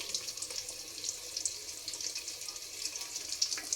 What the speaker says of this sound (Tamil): அரிசிக்கு தண்ணி ஊற்றிட்டேன்.